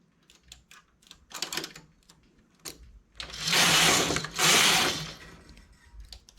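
Carriage of a knitting machine working a row that includes a cable stitch: scattered light clicks and taps at first, then two loud, sustained mechanical rasping sweeps close by.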